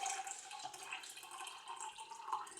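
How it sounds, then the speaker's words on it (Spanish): Non-alcoholic beer pours into a whisky cocktail in a glass, a soft, continuous splashing and fizzing stream heard close up and on its own for a few seconds. "Ahí echamos la cervecita."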